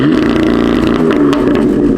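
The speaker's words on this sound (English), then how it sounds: "let's compare the sound from before and the sound now with the new downpipes" A BMW M4 engine fitted with new downpipes revs hard and loud, a dense throaty roar sustained close by for about two seconds with no talking.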